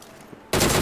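Gunfire in the battle royale game PUBG bursts in abruptly halfway through, a loud, dense volley of rapid shots after a quiet stretch.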